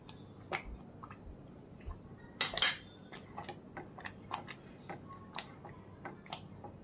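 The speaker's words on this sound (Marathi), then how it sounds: "आता हे हलवत राहायचं आहे सारखं" Spoon clinking against a pot while stirring amla chunda with lemon juice, a series of light, irregular taps and scrapes close by, with one louder clatter in the middle, no talk.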